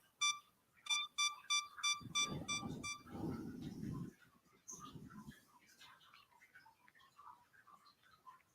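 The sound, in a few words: beep of a camera's 10-second delay timer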